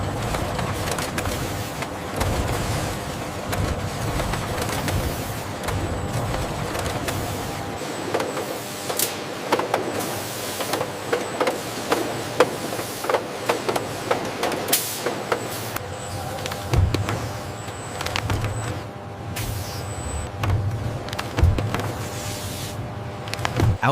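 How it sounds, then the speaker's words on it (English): A volumetric dosing machine on a factory production line dispenses light brown powder into pouches, giving a steady, loud mechanical whir broken by irregular clicks and knocks throughout. "The light brown powder is fed into a volumetric dosing machine, which precisely measures the required mass."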